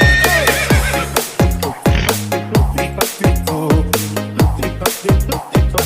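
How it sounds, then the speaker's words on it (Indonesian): Rhythmic hoof clip-clops at a steady trot pace from a horse pulling a delman carriage, a regular beat of sharp knocks with a horse whinnying over the top, backed by music. "Suara spatu kuda"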